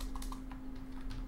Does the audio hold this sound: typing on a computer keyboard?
yes